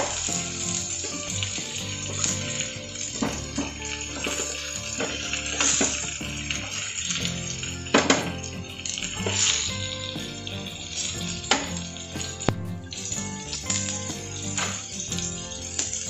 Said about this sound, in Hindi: इसको दोनों साइड से इस तरीके से हम फ्राई कर लेंगे